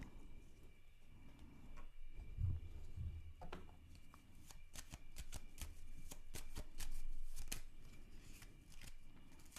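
A deck of tarot cards being shuffled close by in a quiet room, with repeated crisp riffling bursts and soft card slaps in uneven succession, heaviest in the second half.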